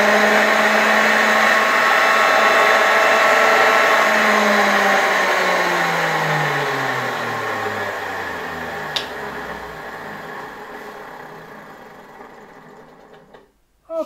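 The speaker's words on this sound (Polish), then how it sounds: "Ten silniczek z warszawskich zakładów silników elektrycznych działa" An old electric motor made in Warsaw in 1959 drives a small vacuum cleaner with a loud, steady whine, then spins down with a falling pitch, a click partway through, and a final thump as it stops.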